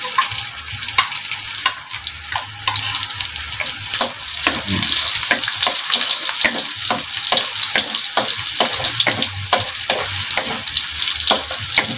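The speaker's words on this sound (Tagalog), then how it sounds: "tayo po ay magigisa na po ng ibang sangkap. Okay, una, una pong ilalagay ay bawang" Garlic sizzles steadily in a hot pan, a continuous bright frying hiss with rhythmic stirring scrapes throughout; no voices.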